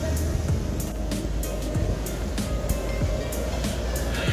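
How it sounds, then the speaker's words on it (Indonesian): Steady heavy rain hisses and patters at Pantai Indah Kapuk 2, Jakarta, with scattered splashy bursts and low rumbling underneath. "Kondisi lagi kehujanan ini. Basah-basahan."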